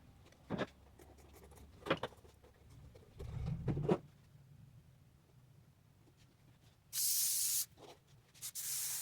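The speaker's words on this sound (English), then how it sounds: "just spray your burlap one side and then spray your foam shell and then just press it on" Short hissing bursts of spray adhesive hit burlap and a foam shell, several quiet pulses followed by a longer, louder spray near the end, with no voices.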